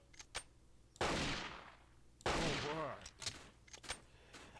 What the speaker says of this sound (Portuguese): Quem deu esses tiros?